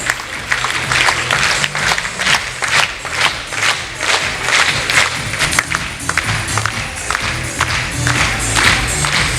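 Sustained audience applause at a large forum in a hall, loud, thick clapping from many hands with occasional cheers and thumps, continuing throughout.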